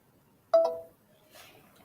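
A phone receives an incoming call, giving one short electronic ring tone that sounds briefly and then fades, followed by faint background noise.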